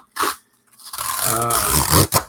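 A mailed package being opened up close: a quick rip, then a longer scraping, crinkling tear of packaging material.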